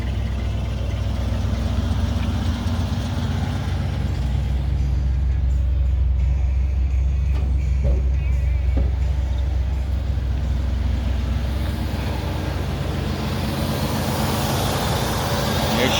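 Idling engine of a 1969 Cadillac DeVille convertible, a steady low rumble holding even and close for the whole stretch with faint background noise and no talk over it.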